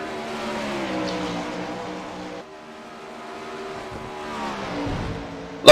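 410 sprint cars howl through the final lap of a race, a loud, continuous engine roar that swells, dips briefly and builds again, ending in a sharp burst up close.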